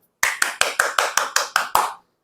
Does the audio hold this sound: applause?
yes